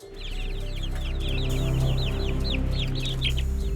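Osprey chicks call from a nest in a forest in summer, a steady run of repeated high, rising chirps, fairly close, over a low background hum.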